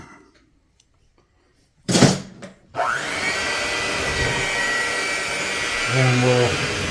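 An electric mixer beating gingerbread dough starts with a clatter after near silence, then runs as a steady loud whir with a rising pitch shift later on.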